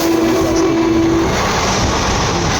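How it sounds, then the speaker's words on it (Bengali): A train passes close by, heard from another train halted on a journey toward Kedarnath. A loud, continuous rumble with a short horn tone at the start carries through the whole stretch. "একটা ট্রেন বেরিয়ে গেল"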